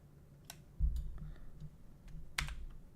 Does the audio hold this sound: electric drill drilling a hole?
no